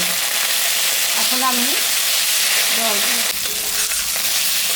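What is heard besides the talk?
spice paste of ginger, cumin and dried chili frying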